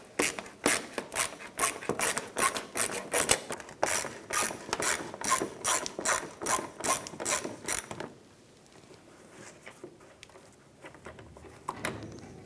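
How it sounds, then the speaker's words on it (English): A ratchet with a 7mm socket clicks rapidly in steady bursts while backing out bumper cover screws on a 2006-2013 Chevrolet Impala, close and crisp for about eight seconds, then fades to quieter, sparse handling noises. "Using a 7mm socket, I'm going to start by removing these two screws right here."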